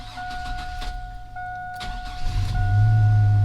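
A GMC Sierra pickup truck is started with the key: steady electronic chimes sound first, then the starter cranks and the engine catches, settling into a loud, close idle rumble.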